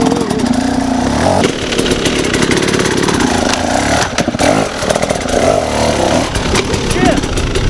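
A hard enduro motorcycle engine revs hard and buzzes, rising and falling in pitch with throttle and clutch, loud and close, with a voice talking over it in places.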